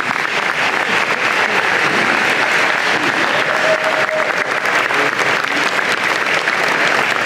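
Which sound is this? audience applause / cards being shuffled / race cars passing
audience applause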